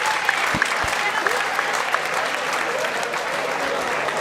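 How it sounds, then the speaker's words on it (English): A kickboxing crowd gives both fighters a sustained round of applause after the bout, a thick, even roar of clapping with a few sharp thumps near the start. "big round of applause for both fighters"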